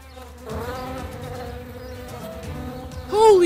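Oversized bees in a Roblox game drone with a close, steady buzzing hum, ending in a brief louder rising tone.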